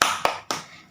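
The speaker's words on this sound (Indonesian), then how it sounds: "mari kita tepuk semangat bersama-sama" Children in a primary school class doing a spirit clap, three sharp, close hand claps in quick, even succession.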